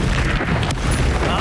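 A short, loud burst of the Incendio fire spell in Hogwarts Legacy, a dense booming whoosh filling the moment, with a voice mixed in.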